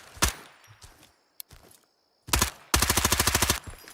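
A P90 submachine gun in Incursion: Red River fires a few single shots, then a sharp double crack and a fast, evenly spaced automatic burst of about a dozen rounds, loud and close.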